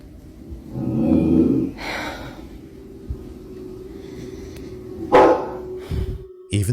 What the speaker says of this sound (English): They growl and bark as if sensing something dangerous, but clearly nothing is there.